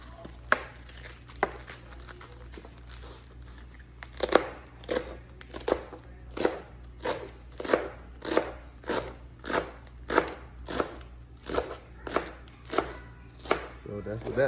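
A knife slices through rolled-up leaves on a board in a steady run of about twenty crisp, evenly spaced chops, close and distinct over a low background hum.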